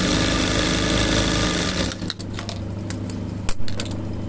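A sewing machine set to stitch length three runs a straight stitch with a fast, steady mechanical chatter up close, then slows to uneven clicks and taps near the end.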